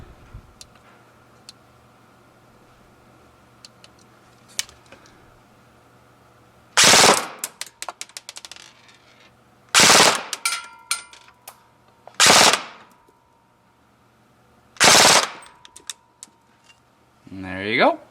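Full-auto bursts from a VFC/Elite Force H&K M27 IAR airsoft rifle at a chrono range: four short, loud rattling strings of rapid shots separated by quiet pauses, with a faint steady hum underneath.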